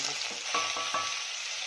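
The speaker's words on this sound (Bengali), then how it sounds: "পেঁয়াজগুলো আমি হাফ ভাজবো।" Sliced onions fry in a pan for a vegetable breakfast curry, with a steady, fairly loud sizzle broken by several quick stirring strokes close up.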